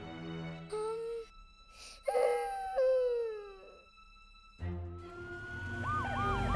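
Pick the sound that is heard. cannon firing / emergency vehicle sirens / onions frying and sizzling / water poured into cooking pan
emergency vehicle sirens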